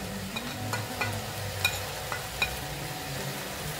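An onion-spice mixture sautéing in a pan for malai sabji, a soft, steady sizzle with several sharp spatula clinks and scrapes against the pan at irregular intervals.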